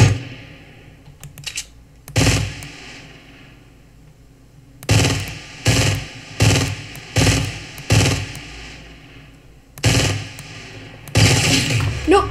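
Bursts of gunfire in the Fortnite video game, several loud rapid volleys repeating across the clip with short pauses between them, close and dominant with no talk over them.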